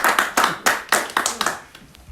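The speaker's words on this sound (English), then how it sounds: "Give yourself a round of applause for sticking up and showing up" A seminar audience claps in a string of sharp, uneven bursts, several quick claps landing close together and thinning out over about two seconds, fairly near and without talk.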